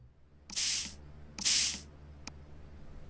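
A spray bottle misting softening solution onto the rock matrix around a dinosaur fossil, two longer hissing sprays followed by a brief short squirt, close and fairly quiet with no talk.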